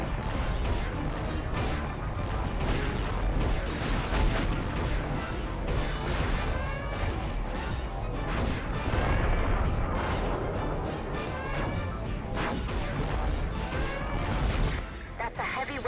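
Heavy, continuous Vulcan cannon fire from a mech in the video game Future Cop LAPD, loud dense rattling bursts layered with explosions and crashes, and a voice talking over the barrage.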